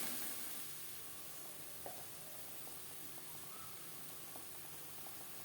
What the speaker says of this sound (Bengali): দশ পনেরো সেকেন্ড ভেজে নেওয়ার পর দিয়ে দেব আদা বাটা কাঁচা লঙ্কা বাটা ও টমেটো